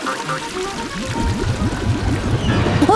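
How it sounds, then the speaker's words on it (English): Toilet flushing with a clogged bowl, rushing, gurgling water that builds steadily and stays loud, with no talk over it. "Flushing now."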